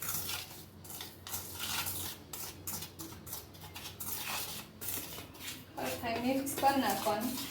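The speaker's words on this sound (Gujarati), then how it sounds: "હવે આ હળદર મીઠું મિક્સ કરી નાખશું." Turmeric and salt stirred together in a bowl for lemon pickle, with repeated scraping and clinking of a utensil against the bowl in an uneven rhythm, followed by a voice speaking near the end.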